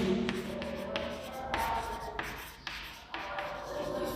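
Pen or chalk writing a sentence during a chemistry lecture, a series of scratchy strokes and taps in short bursts with brief pauses, close and moderately quiet against faint room noise.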